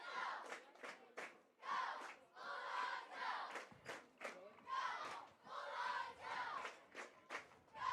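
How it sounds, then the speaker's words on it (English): Bulldogs fans at a Friday night high school football game against the Hoxie Indians clap and shout in rhythm with the cheerleaders, a loud, steady crowd roar broken by repeated chanted bursts. "The Bulldogs fans clapping their hands in rhythm with the cheerleaders"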